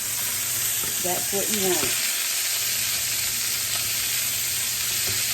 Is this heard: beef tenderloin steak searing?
yes